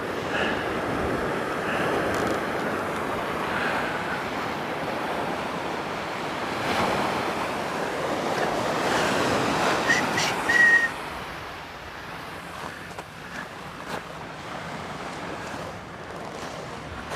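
Ocean surf rolls and breaks continuously on an Australian beach, a steady wash of waves with wind buffeting the microphone, loud and close throughout with no talking.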